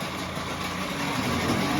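A Seawalker outboard boat motor idles with a steady, even engine hum that holds at a constant level throughout the short stretch, with no voices.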